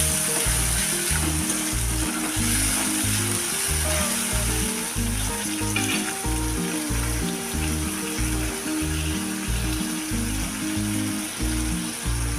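Chopped tomatoes sizzle and fry in a pan for a Kathiyawadi sev tameta curry while being stirred, a steady close crackle with repeated scraping strokes and no talking.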